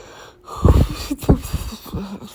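A person yawns up close during a home tidying vlog: a breathy, gasping inhale with a couple of loud airy bursts, followed by softer breathing. No words are spoken.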